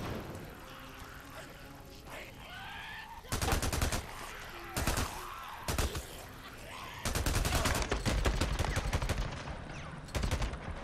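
Rapid gunfire from the Days Gone video game rattles out in several loud, dense bursts of shots, separated by quieter gaps of ambient game sound, with a voice occasionally speaking in the lulls.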